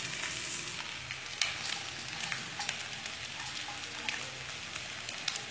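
Fried flattened rice being mixed with fried egg and onion in a pan, giving a steady broadband sizzle with scattered scraping stir clicks, moderately close and with no talking.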